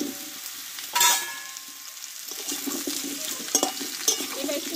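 Pumpkin and potato pieces fry in a pan with panch phoron and are stirred firmly, a close sizzle broken by a loud spatula scrape and repeated clatter against the pan.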